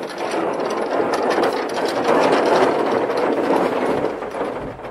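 Dense, steady rain patters and drums on the thin metal roof of a Hyundai IONIQ 5, a continuous loud rattling hiss with no voices.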